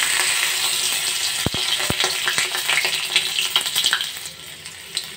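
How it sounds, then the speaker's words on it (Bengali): Panch phoron spices, bay leaf and chopped ginger sizzle in hot oil, a steady loud frying hiss broken by a few sharp clinks and stirring scrapes, easing off toward the end. "দিয়ে দিয়েছি তেজপাতা, দিয়ে দেবো আদা কুচি"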